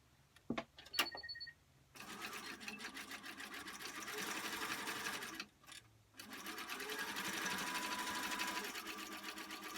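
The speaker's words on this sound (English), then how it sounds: "I'm just going to sew all the way down, and that will create a boxy corner" A sewing machine stitches down a fabric seam to form a boxy corner on a small go bag, a few brief clicks first, then a steady close-up mechanical whir that pauses briefly midway before running on.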